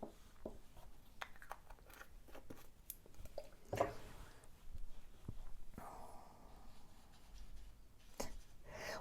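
Fountain pen writing on paper with Organic Studio Nitrogen ink, a blue ink with red sheen: soft, irregular scratchy strokes and taps, close and quiet, with brief pauses between bursts of writing.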